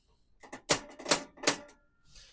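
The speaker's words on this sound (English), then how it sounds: "you're just going to give it a little click, click, click." Igniter on an RV gas oven clicks while lighting the pilot, a few sharp close clicks in an uneven burst, three of them louder, with no talking.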